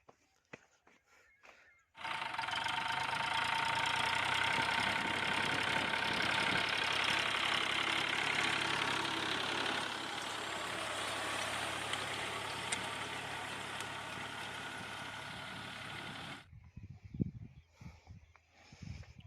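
A tractor pulling a seed drill loaded with wheat and fertilizer starts up after a quiet moment, then runs with a loud, steady knocking engine drone that eases slightly midway before cutting off, leaving some scattered clunks.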